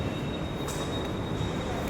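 A Namma Metro train in Bengaluru rumbles steadily close by with a continuous rolling hum and a faint high-pitched whine.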